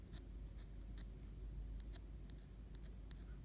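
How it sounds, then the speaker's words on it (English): A fine nib pen, a Schaefer Feather Touch, doodles on paper with soft scratchy strokes that come in short irregular bursts over a steady low background hum. "This is a crazier fine nib here."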